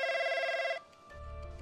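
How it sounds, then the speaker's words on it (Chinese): A telephone rings with a bright electronic trill for under a second, then stops, followed by a faint low rumble and quiet line noise. "钟浩妈妈接到了钟浩的电话"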